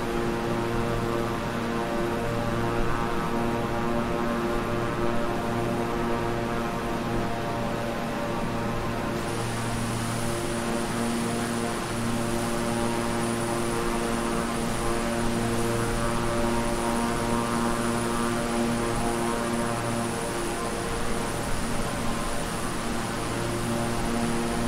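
Steady, loud drone of a King Air 350i twin-engine propeller plane in Microsoft Flight Simulator, throttle pushed up, holding even prop tones throughout with a brighter high whine joining partway.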